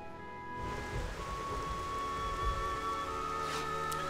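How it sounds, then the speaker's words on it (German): Steady rain with faint distant rumbles of thunder in the video game Xenoblade Chronicles, set in a Mechon area, forming a continuous ambient wash beneath a soft, sustained musical drone, with no talking. "Das ist eher Regen und Gewitter und Donner und Blitz."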